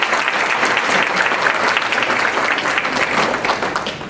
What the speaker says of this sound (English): Round of applause for our sponsors, please.